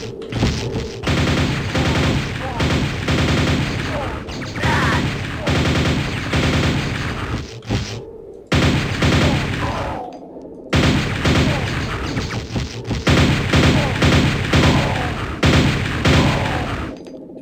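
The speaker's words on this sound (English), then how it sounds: "Precision nail gun." Nail gun fire in the video game Quake, a loud, dense rapid stream of shots that cuts out briefly twice and then resumes, continuous and close.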